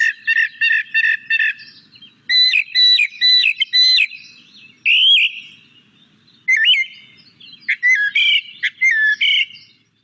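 A single mimicking songbird in a front yard runs through a sequence of borrowed calls, including rapid repeated chirps, whistled phrases and squawky notes, delivered in loud, close bursts separated by short pauses, with no other sound.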